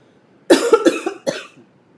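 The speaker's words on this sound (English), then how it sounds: "Excuse me, I have to cough." A few sharp coughs close by, a burst of two or three followed by one more after a short pause, then quiet.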